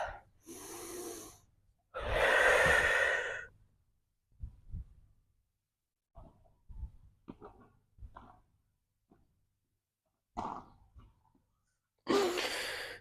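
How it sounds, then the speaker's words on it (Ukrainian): Deep breathing during a morning yoga practice: several strong, breathy inhales and full exhales, with short huffs and quieter gaps between them, close and clear with no talking. "Робимо ще один раз вдих, повний видих, втягнули живіт."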